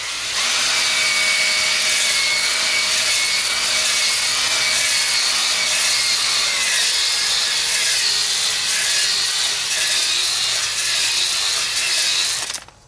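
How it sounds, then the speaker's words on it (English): Ryobi cordless drill spinning a Flex-Hone brush hone inside a 7.3 PowerStroke diesel cylinder, a loud continuous abrasive whirring and scraping that holds steady for about twelve seconds, then cuts off. "make sure to retract the hone from the cylinder wall, make sure that your drill's still going"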